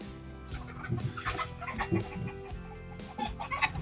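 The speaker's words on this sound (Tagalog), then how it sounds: "nabulabog na mga manok" Several chickens cluck and squawk close by in short, agitated bursts, with no voices over them.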